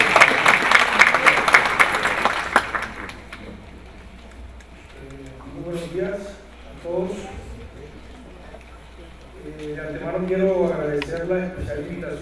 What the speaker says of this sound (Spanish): lo recibamos con un fuerte aplauso